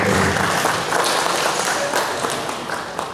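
An audience at a ministry anniversary thanksgiving gathering applauds, dense clapping that starts strong and gradually thins toward the end.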